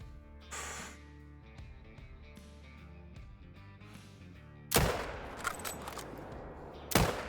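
Rifle shots from a big-game hunt for a ram in the Alberta mountains: a sharp, loud report cracks out around the five-second mark and a second follows near seven seconds, both over a quiet bed of low music.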